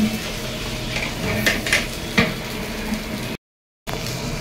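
Ginger paste fries and sizzles in a pan on a home stove, with a steady hiss broken by a few clinks and scrapes of a spoon stirring against metal, briefly cut by a short silence.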